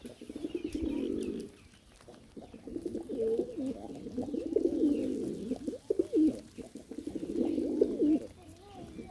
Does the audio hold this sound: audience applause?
no